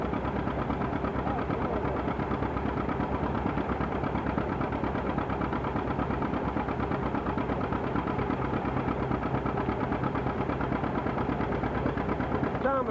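Steady engine drone from an old machine powering a threshing machine at a 1985 farm threshing demonstration, a continuous mid-pitched running rumble with faint mechanical vibration throughout.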